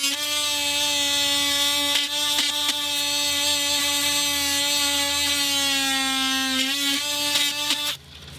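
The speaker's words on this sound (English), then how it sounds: "I'm gonna take my oscillator and I'm gonna cut a reverse angle on this board" An oscillating multi-tool cuts a reverse bevel into a deck board, a loud steady buzzing whine held for several seconds, broken by brief dips and stopping near the end.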